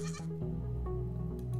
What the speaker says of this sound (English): it's a sheep! It's a two-legged sheep!